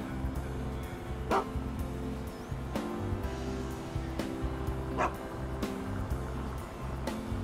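A husky pulling a surfboard sled loaded with cash in GTA 5 barks a few times over a dense, steady game soundtrack, the yips short and mid-loud amid rhythmic music.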